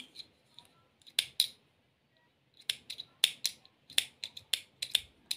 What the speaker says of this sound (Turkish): Makasında köreldi mi yoksa ben mi kesemedim?